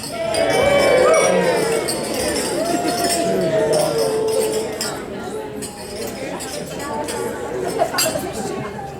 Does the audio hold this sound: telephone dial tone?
no